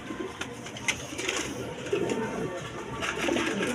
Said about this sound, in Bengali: এক পেয়ার কবুতর লাহোরি কবুতর আছে